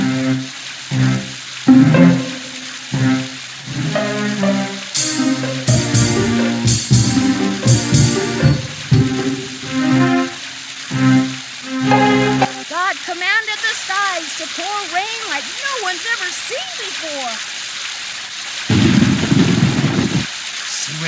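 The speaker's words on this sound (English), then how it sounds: "Grab that storm cloud and watch it rain like mad." Rain pours from a storm cloud in the 1997 PC game Noah & the Ark, a hissing downpour with bursts and rumbles, mixed with game music, sound effects and voices talking.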